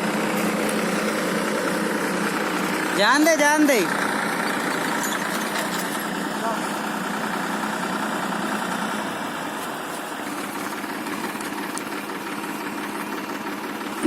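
A tractor engine runs steadily through the whole stretch at a constant idle-like drone, near and fairly loud, heading home after rice sowing in a field, with a brief sweeping whine early on and a few words spoken over it.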